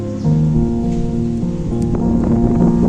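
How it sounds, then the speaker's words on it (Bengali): Strong wind blows across a rooftop garden under a cloudy sky, a loud, steady roar with rustling leaves and a constant low hum throughout. "প্রচন্ড রকমের হাওয়া"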